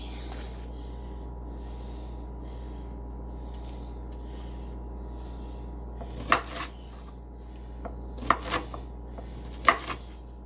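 A dull kitchen knife chops food on a board in a few quick bursts of sharp taps, with quiet stretches of low room hum between them.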